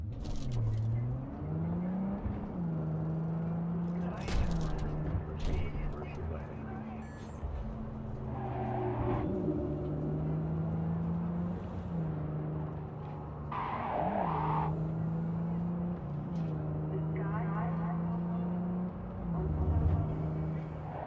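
Traffic cars drive past in Cyberpunk 2077, with a steady engine hum, brief tire skids and passing swells. A player talks over the game sound.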